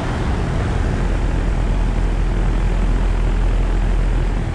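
A 2017 3.5-ton Rheem RP15 heat pump with a scroll compressor and Gentech fan motor runs in heat mode, giving a loud, steady broadband whoosh and rumble that holds constant throughout, close up.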